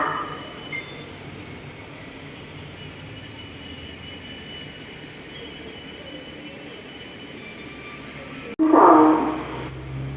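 Ordinary passenger train no. 251, running from Thonburi to Prachuap Khiri Khan, moves steadily past the platform at Ban Pong station with a continuous rolling rumble and wheel squeal, followed by a sudden louder burst near the end.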